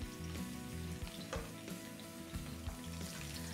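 Kale stems fry and brown in a hot pan, a close, steady crackling sizzle with small pops and occasional stirring, no talking.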